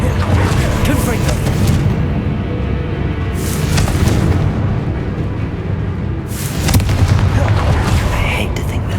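Confringo, an explosive spell in Hogwarts Legacy, sets off repeated booming blasts with bursts of crackling debris, heavy and loud, against busy game noise.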